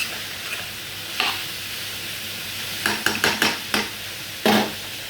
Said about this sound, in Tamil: நல்லா கிண்டிக்கிடுவோண்ணா.